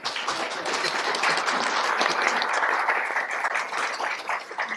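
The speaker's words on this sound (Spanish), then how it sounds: "Pido un aplauso para" Sustained, dense applause fills a hall at a book launch for indigenous children's writing, as the crowd welcomes a regional council president. The clapping stays steady and even throughout with no voices above it.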